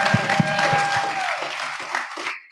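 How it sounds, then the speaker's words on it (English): Applause from an audience at a startup pitch night in Calgary, a short burst of broadband clapping that fades out after about two seconds. "give a round of applause for Platform Calgary too for hosting us"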